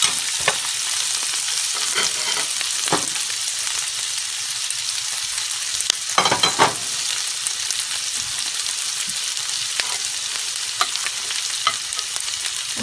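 Colorful bell pepper strips stir-fry in a hot pan for a shrimp dish, giving a loud, steady hissing sizzle broken by periodic scraping and tossing sounds from stirring, with no voices.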